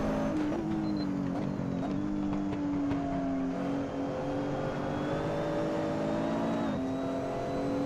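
Nissan GTR GT3 race car in Assetto Corsa at Monza, its engine droning steadily at high revs down the straight toward Parabolica, with small pitch shifts as it changes gear, loud and continuous with no voices.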